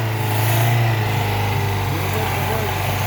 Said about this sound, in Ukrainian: Мотор ідеально робить